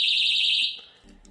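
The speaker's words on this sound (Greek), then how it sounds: "Έχει αυτό εδώ το πυράκι, τραβώντας το, ενεργοποιείται ο συναγερμός." A piercing, steady high-pitched personal safety alarm, set off by pulling its pin, blares loudly, then cuts off abruptly, leaving faint clicks and rustling.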